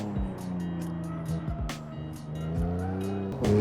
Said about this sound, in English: Let's get this BMW M2 around to see if we can get a decent time